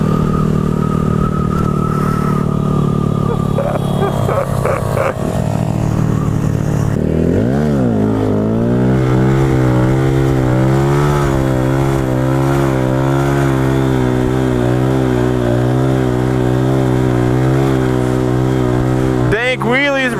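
A motorcycle revs loudly while riding wheelies on a street in front of a motorcycle cop. The engine pitch climbs and falls in repeated sweeps, with voices heard over the roar.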